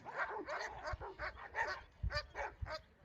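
Several dogs bark and yip repeatedly at a distance on a hill, a quick, uneven volley of overlapping barks with a faint whimper, fairly soft overall.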